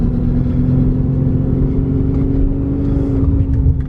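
A 214,000-mile Volkswagen Touareg TDI diesel drives along with a steady, loud engine drone and a low rumble, heard from inside the car with no talking.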